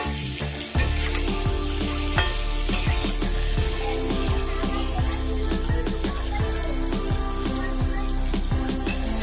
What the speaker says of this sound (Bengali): পটলটা দিয়ে ভালো করে এটা কষিয়ে নেবো